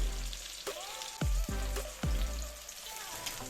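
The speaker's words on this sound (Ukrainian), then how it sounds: "смажимо до появи рум'яної скоринки" Steady sizzling and crackling of chicken breast frying in a pan, with a few heavy low thumps as pieces are set down or moved.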